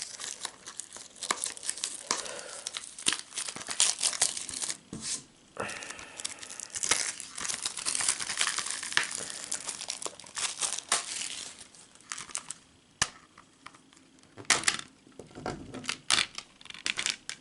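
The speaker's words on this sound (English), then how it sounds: "try to get this plastic open" Plastic wrap crinkled and torn off a Disney Snow White and the Seven Dwarfs Blu-ray+DVD Signature Collection case, a long run of close, loud crackling and ripping with sharp snaps and pauses between bursts.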